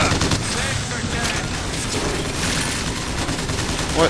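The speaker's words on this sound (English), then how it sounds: "Stop shooting all my stuff." Sustained heavy gunfire in the video game Bioshock Infinite, a dense rattling barrage that continues throughout, with a voice speaking over the shooting.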